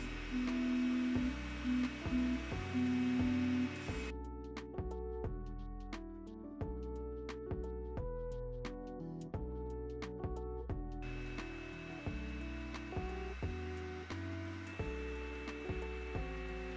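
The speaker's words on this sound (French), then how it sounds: "l'imprimante passe à la partie automatique et ajuste ses réglages." An Elegoo Neptune 4 Max large-format 3D printer runs its automatic calibration, its stepper motors whining in a steady sequence of shifting pitched tones with short clicks between moves. The sound is close and continuous, and no one speaks.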